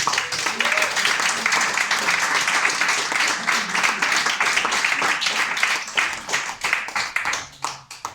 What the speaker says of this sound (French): il faudrait aussi qu'on applaudisse les bénévoles